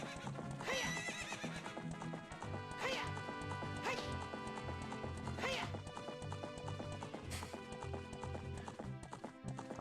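Ganon's horse in a Zelda Spaceworld '97 beta gallops in a steady repeated rhythm, with several loud neighs and whinnies over game music.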